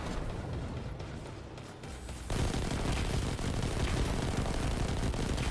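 Gunfire pours in on the player on Mercury in a Destiny 2 Shadowkeep Nightfall, The Ordeal. It starts muffled and turns into a loud, dense, continuous barrage of rapid shots.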